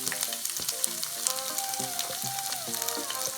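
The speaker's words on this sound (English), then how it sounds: "Into this oil I'm gonna add garlic." Garlic and green chilies fry in hot oil for Mexican rice, a steady close sizzle with crackles and pops plus faint stirring, alone without voices.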